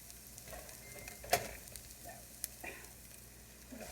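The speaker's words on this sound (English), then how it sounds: "So next we're going to add our barley" Barley tips into a pan of browned celery, onions and garlic, giving one short rattling burst over a faint, steady sizzle, then a couple of small clicks as the frying goes on quietly.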